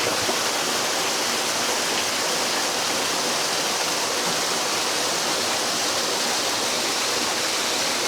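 Water flows from a clean natural spring at an eco camp in Indang, Cavite, making a loud, steady, broadband rush like a small waterfall that fills the scene without pause, close and constant with no voices.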